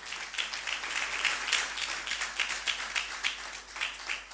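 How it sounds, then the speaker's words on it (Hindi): A church congregation at a Hindi-language Friday service claps loudly and steadily for Jesus Christ, a dense, sustained wash of applause with no voices over it. "एक बार फिर से हम यीशु मसीह के लिए जोरदार ताली बजाएंगे"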